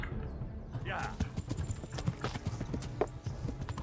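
Horse hooves clip-clopping at a steady pace in Kingdom Come: Deliverance, near and rhythmic, with someone talking over them.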